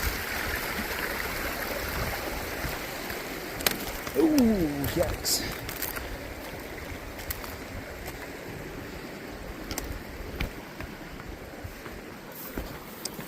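Steady rushing water surrounds splashing steps through a stream, with a brief exclamation from a person partway through.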